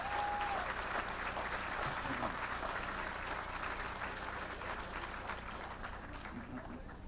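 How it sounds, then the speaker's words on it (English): Audience applause at a stage event as two guests return to the stage, a sustained wash of clapping from a sizable crowd, steady and slowly fading, with a brief tone at the start. "please give them a round of applause."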